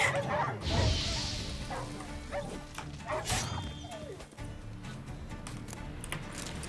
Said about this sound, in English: So wild dogs are very prominent